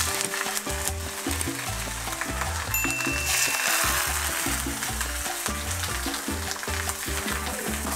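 Salmon skin frying in a pan as it crisps into chips, a loud dense sizzle with crackling pops and some stirring clatter, close and continuous.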